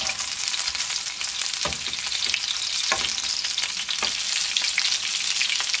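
Chicken tocino fries in a pan with a steady, bright, crackling sizzle throughout, broken by a few soft scrapes and stirring knocks, heard close up with no talk.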